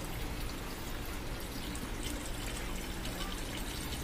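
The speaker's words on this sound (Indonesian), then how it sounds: "ini kita pakai filter ember lalu ngalirnya ke sini tuh" Water from a predator fish pond drains through a bucket filter during a water change, producing a steady, continuous rushing wash that stays even and fairly close throughout, with no voices.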